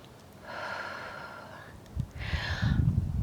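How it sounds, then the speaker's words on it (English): Two deep breaths during a yoga side plank: a long, audible inhale through the nose, then a heavier, rougher exhale, both close and clear with no talking. "nice breath in."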